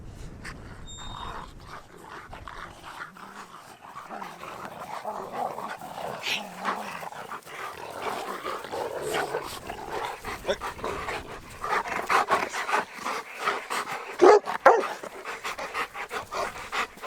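Four pet dogs panting close by indoors, with soft yips, scuffling and movement throughout and a few sharper sounds near the end; a person speaks briefly.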